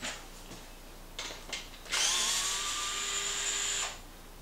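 A power driver spins briefly while removing the front tire from a Traxxas Maxx RC truck, a few quiet taps and clicks followed by a short, bright whirring burst of about two seconds, close up and alone.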